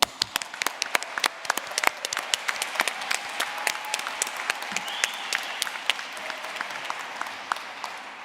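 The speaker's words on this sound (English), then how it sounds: "Let's give them a round of applause." A crowd at a 2021 business school undergraduate commencement breaks into sustained, dense applause for the new graduates, with many overlapping claps and sharper nearby ones throughout.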